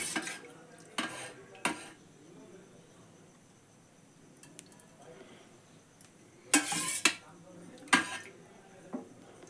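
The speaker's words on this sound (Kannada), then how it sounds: "ಒಗ್ಗರಣೆ ಹಾಕಕ್ಕೆ ನಾ ಕುಕ್ಕರ್ ಇಟ್ಟೇನಿ ಇದಕ್ಕೆ ಎಣ್ಣೆ ಹಾಕೊಂಡು ಬರ್ರಿ ಒಗ್ಗರಣೆಗೆ" A pressure cooker is set down on the stove and oil is added for tempering a cabbage pulao, with sharp metallic clanks and knocks in a few separate bursts over a quiet kitchen background.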